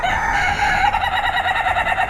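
Laughing rooster breed calling at a Thai market stall, a loud, close, continuous run of rapid cackling, throaty notes in a steady pulsing rhythm, heard on its own without talk.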